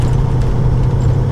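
A 2001 Peterbilt 379 truck with a 450-horsepower Caterpillar engine accelerates in eighth gear, giving a steady, deep engine drone heard from inside the cab, continuous and loud with no talk.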